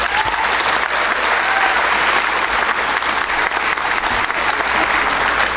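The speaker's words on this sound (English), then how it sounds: "So I think they deserve a round of applause." Sustained applause from a large audience at a military academy commencement ceremony for graduating cadets, loud and dense clapping filling the whole stretch without a break.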